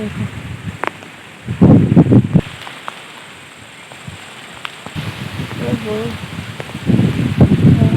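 Gusty wind before a storm in Bankura buffets the microphone in heavy, rumbling bursts separated by calmer stretches. Voices can be heard now and then.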